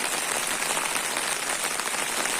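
Heavy rain falls steadily in a dense, unbroken hiss over a vegetable garden during a downpour, close and constant with no voices.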